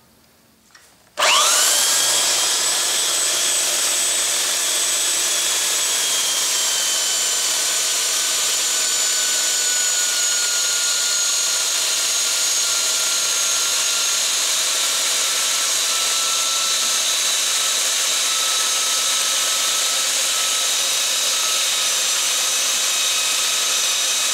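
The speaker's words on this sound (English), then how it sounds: "That's going to be a real easy trim with the belt sander right there." A 4x24 belt sander trims a cut piece of wood at a workshop router table station, starting abruptly and then running as a loud, steady, high-pitched whine with constant grinding for the whole stretch, no talking.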